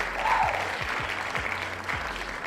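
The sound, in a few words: applause sound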